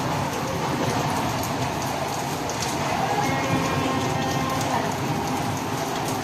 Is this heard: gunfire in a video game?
no